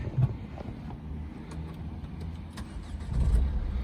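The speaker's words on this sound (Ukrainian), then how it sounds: "Автомобіль заводиться без зауважень" A late-2014 Renault Megane 3 car engine starts, giving a short crank and a catch near the end that settles into a low idle, heard from nearby without talk.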